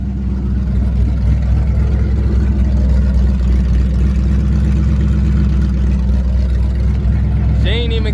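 A cammed 400+ hp Ford Crown Victoria V8 idles with a loud, lopey, uneven rumble that sounds close to stalling, running steadily throughout, with a brief higher squeal near the end.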